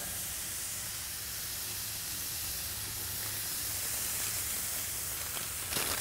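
Burger patties sizzling on a Blackstone griddle, a steady, loud broadband hiss with no talking.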